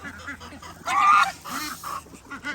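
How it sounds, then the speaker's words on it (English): A mother duck calls at a homestead with repeated honking quacks, one louder nasal burst in the middle, close and loud with no talk. "Come on, Mama Duck"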